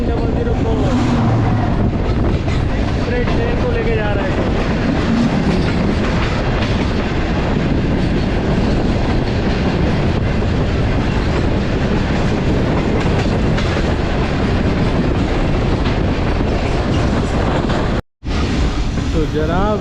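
Karakoram Express passenger train rolling into the Rohri Junction railway yard at night, a loud, steady rumble with clickety-clack of wheels over rail joints and wind buffeting the microphone, broken by a brief dropout near the end.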